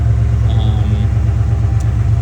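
A 1990 Ford F150 truck engine idles steadily, a low continuous rumble with a faint rhythmic pulse, heard close with no other sounds.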